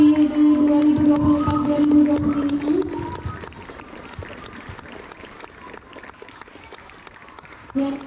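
Applause for the outgoing 2024-2025 student council at a junior high school handover ceremony, a crowd clapping loudly for about three seconds before fading into softer scattered claps and room noise.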